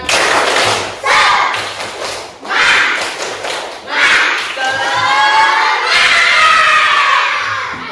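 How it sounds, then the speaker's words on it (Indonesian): A class of children performing a rhythmic spirit clap in an Islamic lesson, bursts of loud clapping and thumping in a pattern, with children shouting and chanting along in unison between the beats. "Coba kalian tepuk semangat sekali lagi."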